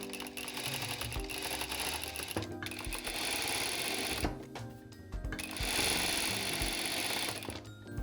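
An industrial sewing machine stitches a hem through a Wayken hem folder that turns the fabric edge automatically, running in steady mechanical bursts with short pauses between runs.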